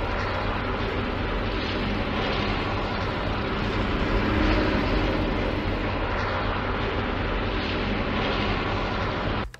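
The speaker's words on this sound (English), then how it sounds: "you can tell that is the sound of an airplane" An airplane in the video game Fortnite gives off a steady, dense roaring drone that holds at an even loudness throughout before cutting off abruptly at the end.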